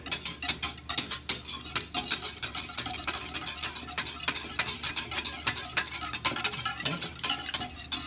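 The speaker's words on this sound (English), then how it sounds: "And whisk that in real nice, even if you're one-handed." A yogurt mixture being whisked by hand for homemade Vietnamese yogurt, making a steady run of quick, rhythmic scraping clicks against the bowl, close and fairly loud, with no one talking.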